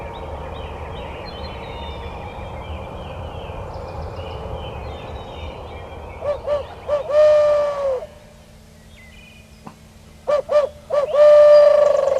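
A barred owl hoot call blown to locate turkeys on a Colorado hunt: several loud, close, mid-pitched hooting phrases in a 'who cooks for you' cadence arrive in two bursts over a steady outdoor background. The owl voice is an imitation made with the call.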